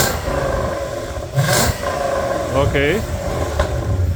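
A Lexus GS430 V8 blips up through a DIY valved exhaust, short throaty revs rising and falling close by, with people talking over the engine.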